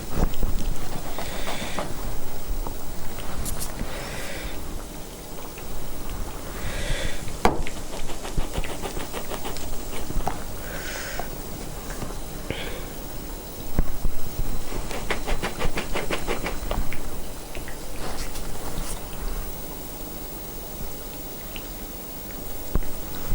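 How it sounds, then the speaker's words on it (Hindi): Sweet tikki patties fry in hot oil in a pan, giving a steady close crackle and sizzle with scattered louder pops and spits that rise and fall throughout. "ये हमारी जो है वो फ्राई होना शुरू हो गई हैं"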